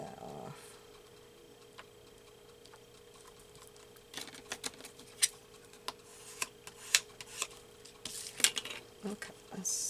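Scissors snipping junk mail paper for decorative journal page inserts, a run of sharp crisp cuts and rustles in the second half, quiet and close, after a near-silent start.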